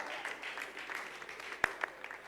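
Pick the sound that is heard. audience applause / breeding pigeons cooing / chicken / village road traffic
audience applause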